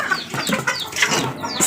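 A hen clucks softly a few times nearby, low murmuring chicken sounds over faint background noise.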